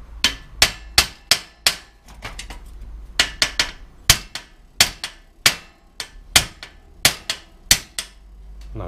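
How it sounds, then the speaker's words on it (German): Sharp, ringing metal hammer blows drive a cotter pin out of a bicycle crank, striking in quick bursts of several hits separated by short pauses. "Dann mit dem Hammer den versuchen, den Keil rauszutreiben."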